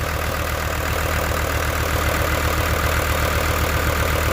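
Engine running on waste oil settles into a steady, loud idle, an even throbbing rumble with no changes in speed throughout.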